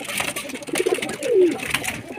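Pigeons coo softly in a short burst, low throaty calls amid faint background noise, from a group of about twenty pigeons in Multan.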